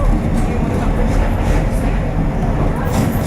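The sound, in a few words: train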